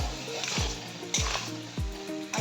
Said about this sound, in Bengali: আলুটাকে দিয়ে ভালো করে কষিয়ে নেব।